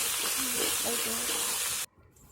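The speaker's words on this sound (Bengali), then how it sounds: "আলুগুলো ভাজতে দিচ্ছে" Potatoes frying in hot oil in a kadai, giving a dense steady sizzle with faint tonal sounds that may be a voice in the background, cutting off abruptly near the end.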